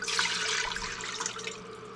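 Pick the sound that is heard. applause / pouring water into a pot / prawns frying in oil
pouring water into a pot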